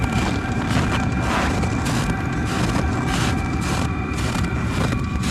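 A car engine running just after a cold start in -19 degree cold gives a steady, loud, close rumble with a rhythmic throb and some wind noise over it.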